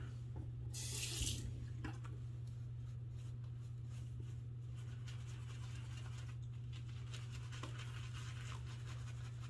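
Water runs steadily from a tap, a constant hiss and trickle filling a bowl, with a brief louder splash near the start and no talking.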